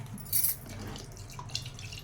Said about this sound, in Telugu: కొద్దిగా వాటర్ వేస్తాను, తిప్పుతాను